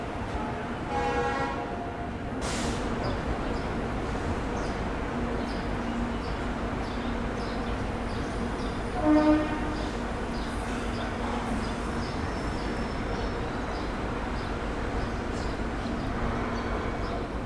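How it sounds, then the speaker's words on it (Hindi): Suvidha Express pulling out of CSMT Mumbai behind a Kalyan-shed WAP7 electric locomotive, a steady rolling rumble that runs throughout, with brief tonal horn-like notes and faint clatter over it. "आज अपनी सुविधा एक्सप्रेस में लगा हुआ है कल्याण शेड का WAP7 लोकोमोटिव। निर्धारित समय से 11:05 पे हम लोग का डिपार्चर हो चुका है"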